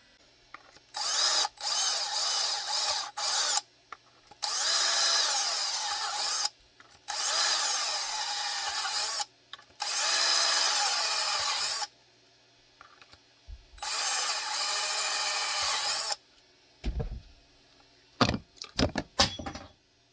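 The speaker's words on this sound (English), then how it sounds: "I'm going to go ahead and drill all 5 of those." A power drill whines in five separate bursts of a few seconds each with short pauses between, drilling rivet holes in a holster sidecar, followed by some clunks and handling noises.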